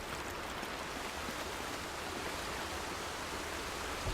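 A waterfall in the Horizon Zero Dawn video game roars as a steady, dense broadband rush of falling water, continuous and fairly loud with no voices over it.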